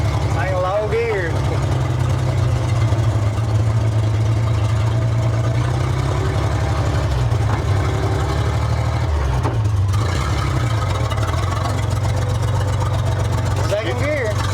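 Engine of a 1947 International Harvester KB3 fuel truck running loud and rough while driving in low gear, a steady heavy low rumble with rising and falling pitch as it labours, people talking over it.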